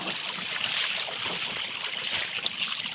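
Water rushing around a bike as a rider crosses a shallow freshwater stream on the way to a waterfall in the Philippines. A steady, broad hiss of flowing water fills the clip from start to finish, close and fairly loud, with no voices.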